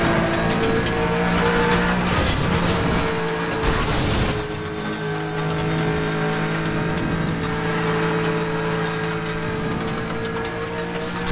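Race cars in the racing video game Need for Speed The Run, with a Nissan GT-R among them, as steady loud engine drone and whine runs throughout along with tire noise and a brief harsher burst partway through.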